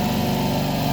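A third motor of an SGCB sggf188 air compressor runs alongside the other two, producing a dense, even buzzing drone heard up close at strong volume, with no voices.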